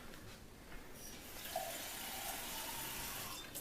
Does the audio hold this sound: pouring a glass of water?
yes